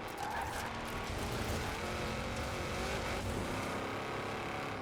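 Race cars in Forza Horizon 4 running neck and neck down a straight, engines droning in a continuous loud roar with a shifting pitch and no break.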